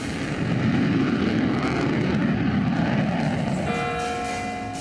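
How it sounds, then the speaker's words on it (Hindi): Fighter jet engines roar as a loud, steady, continuous wash that holds throughout, joined near the end by a high tonal whine. "फाइटर जेट्स भी रेडी हैं।"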